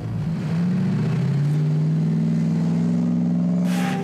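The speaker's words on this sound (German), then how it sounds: "Das ist V8-Sound" A V8 engine in an offroad car revs up loudly and steadily, its deep rising drone held close and continuous for several seconds with no voices over it.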